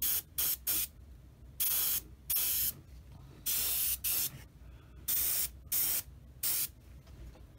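An airbrush sprays thinned paint onto a 1/35 Tamiya M3A1 Scout Car model in short, close hissing bursts, roughly a dozen of them separated by brief pauses.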